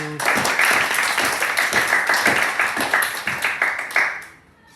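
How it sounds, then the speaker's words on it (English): A roomful of people clapping in a loud, fairly rhythmic burst that fades out at the end. "Let us welcome with a big round of applause"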